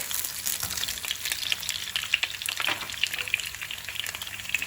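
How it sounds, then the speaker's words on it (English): Garlic sizzles and crackles steadily in hot vegetable oil for spaghetti aglio e olio, a dense close frying hiss with small pops and brief stirring scrapes throughout, no talking. "once the oil becomes hot, this is how you know, you fry the garlic"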